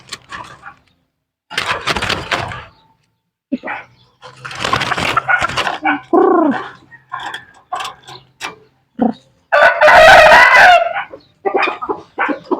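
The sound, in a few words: red junglefowl (labuyo) calling while being handled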